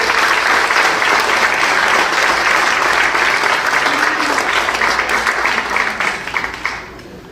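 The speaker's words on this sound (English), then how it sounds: "one more applause for these guys" Parents and students at a high school winter sports awards night give a team loud, sustained clapping that stays dense throughout and tapers slightly in the last second.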